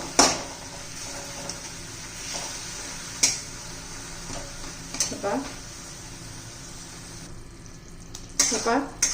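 Jaggery with a spoonful of water heats in a pan toward syrup, giving a soft simmering hiss with scattered spoon scrapes and clinks against the pan, while a person talks intermittently.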